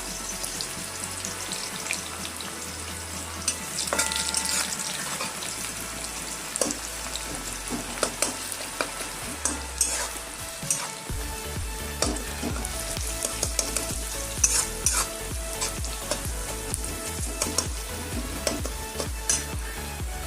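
Onion frying in leftover oil in a kadai for chicken masala, a dense crackling sizzle with frequent ladle scrapes and clinks of stirring, close and continuous with no talk.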